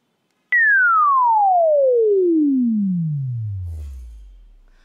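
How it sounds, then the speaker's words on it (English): A simulated tone for an object falling into a black hole begins abruptly, then sweeps steadily downward in pitch as redshift takes over. It fades toward an inaudibly low rumble over about four seconds, heard alone without voices. "you'll hear the same frequency, but the redshift will slowly take over. It will go below your threshold of hearing."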